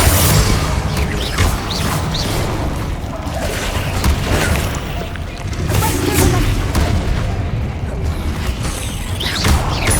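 Confringo blasting spells exploding during combat in Hogwarts Legacy on PS5, a dense, loud barrage of repeated booms and crashes with sharp transient bursts throughout, constant and busy with little pause.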